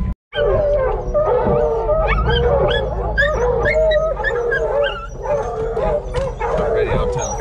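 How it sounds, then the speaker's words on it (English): A pack of bear hunting hounds bays and yelps just after striking a track at the truck, several dogs barking and howling loudly and continuously, close by with overlapping voices. "the dogs just struck good out of the truck"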